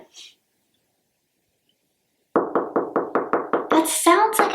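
Knuckles rap repeatedly on a drywall closet wall while someone hunts for a stud: a faint tap, a pause, then a quick, steady series of about ten hollow knocks close by, the last few overlapped by brief talk.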